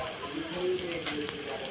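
Bay leaves and cardamom go one by one into hot oil with onions already fried red, and a soft continuous sizzle and crackle rises from the pan, steady and close, with a faint voice under it.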